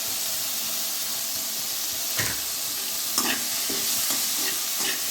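Tomato sautéing in a pan for peanut chutney gives a steady close sizzle and hiss, with a few soft stirring scrapes breaking through.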